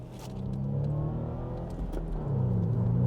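A BMW Z4 drives and accelerates through a corner, its engine rising in a steady, loud rumble with the revs climbing toward the end, alone without talk.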